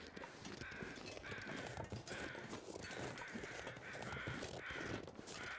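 Crows caw repeatedly in a steady rhythm in the video game The Long Dark, several harsh calls in a row over a dense rustling background.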